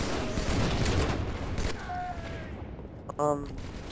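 Video game gunfire crackles as a dense, loud burst through the first half, fading, then one sharp metallic shot or mechanism near the end under a quieter tail.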